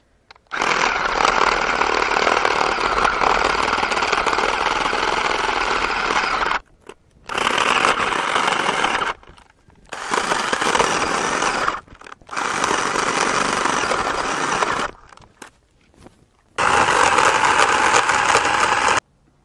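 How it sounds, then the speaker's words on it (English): A battery-operated chainsaw with a worn battery cuts through a log in five loud bursts of buzzing motor and chain, separated by brief pauses of near silence. "Not only is this a battery-operated chainsaw, it's a battery-operated chainsaw with a battery that's nearing the end of its useful life."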